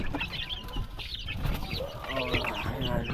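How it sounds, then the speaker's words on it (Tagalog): Hungry chicks and chickens in a farm setting, with busy peeping and clucking that runs continuously and close by. "yung aking mga sisiw ay gutom na. Ayan, yung mga alaga nating sisiw."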